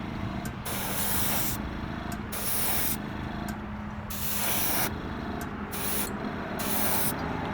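Aerosol spray paint laid as a light coat on a custom Jada toy truck: repeated hissing bursts of about one second each, separated by brief pauses, close and steady.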